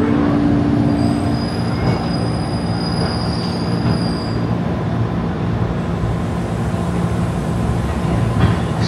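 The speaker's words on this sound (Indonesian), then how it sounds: "Gila, asik banget sih naik KRL jam segini tuh." A late-night KRL commuter train running from Jakarta to Depok rumbles steadily on its rails, with a constant low roar, a faint high wheel squeal and no voices.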